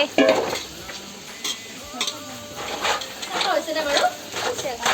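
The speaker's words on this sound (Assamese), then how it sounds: "এইফালে আমাৰ মাংস উতলি আছে" Meat curry sizzles in a pot while a utensil stirs and scrapes against the metal, with clinks and brief bursts of hissing over a steady cooking background.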